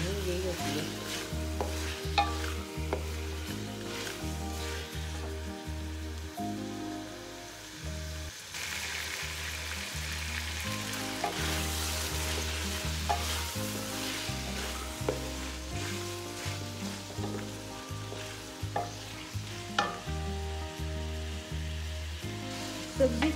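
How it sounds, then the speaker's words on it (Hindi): Potatoes and peas sizzle steadily in a pan while being stirred, with a continuous fry hiss and repeated scraping strokes close by, and no talk. "सब्ज़ी की हम अच्छी तरह बुनाई करेंगे"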